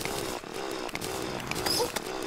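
The drill in Terraria, used in place of a pickaxe, grinds as it digs with a steady buzzing whir that runs throughout, loud and continuous, with brief louder chunks as blocks break.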